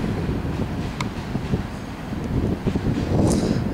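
A CSX coal ash freight train rolling past near Lincolnton, its final cars and shoving platform going by with a steady low rumble, rhythmic wheel clatter and a brief high squeal near the end.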